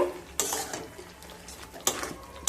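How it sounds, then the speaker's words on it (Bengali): Stirring fried potol (pointed gourd) into a cooked spiced masala in a pan for niramish doi potol: utensil scrapes and clatters come in two bursts, at the start and near the end, with quieter mixing between them. "এবার ভেজে রাখা পটলগুলোকে দিয়ে দেব। পটল দিয়ে খুব ভালোভাবে মিশিয়ে নেব।"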